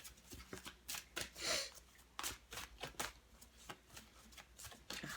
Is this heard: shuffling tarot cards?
yes